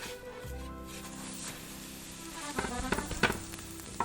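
A buttered grilled cheese sandwich sizzles steadily in a pan just after being flipped, a close continuous fry with a few light clicks and scrapes toward the end.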